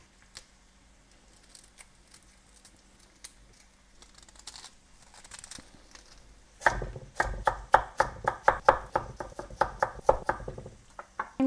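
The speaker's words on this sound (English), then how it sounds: "Just going to cut the whole cauliflower like this." A knife chops a whole cauliflower into bite-sized pieces for a cauliflower and peas sabji. Rapid, close, crisp cuts land repeatedly on a board in the second half, after quieter handling sounds.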